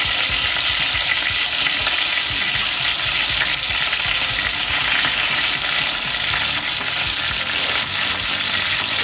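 A cutlet frying in a pan with thyme, giving a loud, dense, continuous sizzle close up that stays steady throughout, with faint spattering crackle and no voices.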